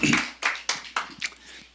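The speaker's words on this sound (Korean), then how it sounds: "큰 박수로 환영하겠습니다" A handful of sharp, separate hand claps ring out in a large church as a visiting guest from Seattle is welcomed, five or six distinct bursts, moderately loud, with no voices.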